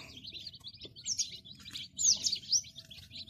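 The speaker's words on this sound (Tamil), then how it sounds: "இதில் வந்து நூறு குஞ்சு இருக்குது" Country chicken chicks chirp under a heat bulb in a brooder holding about a hundred birds, a dense chorus of high, overlapping peeps with louder bursts near the middle and end, close by with no talk.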